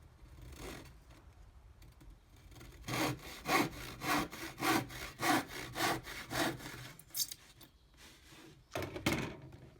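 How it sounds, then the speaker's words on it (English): A hand saw cutting wood in a steady back-and-forth rhythm of about a dozen rasping strokes, close and fairly loud, after a quiet start. "test of sawing accurately"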